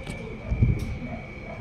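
Breeder pigeons settled on their nests give a short, soft burst of low cooing, close by and brief.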